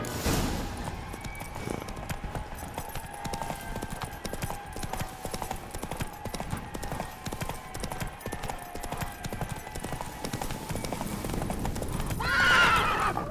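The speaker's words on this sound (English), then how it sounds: "Run, Roach." Roach the horse gallops hard, a fast steady clip-clop of hooves up close that runs throughout, then a loud whinny near the end.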